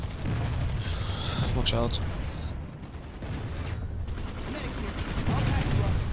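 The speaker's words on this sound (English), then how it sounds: "they're firing rockets through the balcony" Rockets and gunfire in Planetside 2, fired through a balcony: dense bursts of shots and booming blasts run continuously, loud and close, while a person speaks briefly over the battle.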